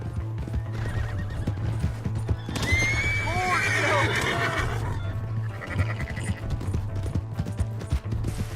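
Horse hooves clip-clop at a gallop in Red Dead Redemption 2, with a loud whinny breaking out midway over a steady low hum and shouted voices.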